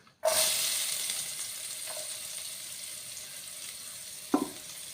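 Onion halves dropped into hot oil sizzle and hiss loudly and steadily from a sudden start, with a brief stir or clatter near the end.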